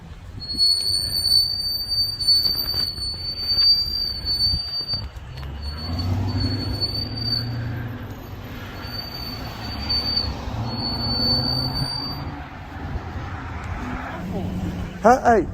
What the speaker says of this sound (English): Your brakes are awful. I thought the train was coming in.